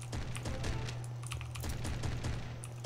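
Rapid game gunfire from a Ludum Dare jam shooter, dense repeated shots hammering at shielded enemies, steady and continuous over a low music drone.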